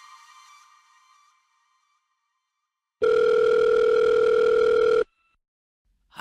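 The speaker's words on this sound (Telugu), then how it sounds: "నేను మా రోషన్ ఫోన్ చేస్తా." An outgoing telephone call's ringback tone: a single long, loud steady ring about two seconds long, preceded by faint fading background sound and followed by silence.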